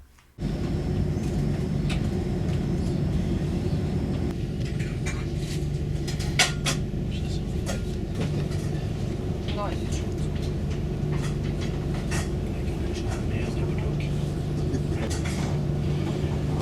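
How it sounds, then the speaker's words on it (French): A train climbs into the green mountains of the Austrian Alps after Klagenfurt, with a steady low rumble and rolling clatter running throughout and occasional sharper knocks and creaks from the carriage. "Après Klagenfurt, notre train part à l'assaut des montagnes."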